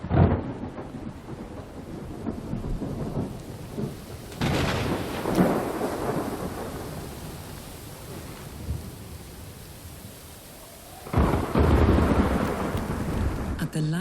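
Heavy rain pours steadily over a vineyard while loud rolling thunder bursts in twice, the second crash booming near and long.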